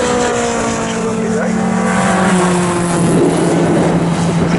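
An MG Midget race car drives past on a circuit, its engine droning with a pitch that shifts as it passes, heard under a commentator's voice.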